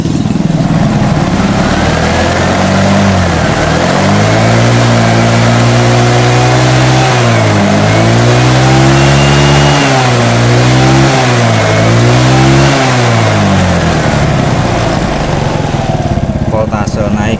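A motorcycle engine revved by hand while its battery charging is checked, idling loudly and close, then throttled up in repeated rising and falling revs before settling back to idle, with someone talking over it.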